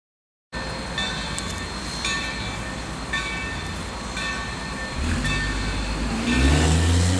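Engine 3025, a Chinese-built steam locomotive, running around its train, heard as steady rail rumble and mechanical clatter that grows louder and heavier toward the end, with no one talking.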